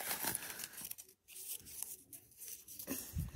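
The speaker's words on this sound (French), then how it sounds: "Je replie juste bien le papier." Sheet of paper being folded and creased by hand during a card game, producing close, crisp crinkling and rustling bursts with brief pauses between them.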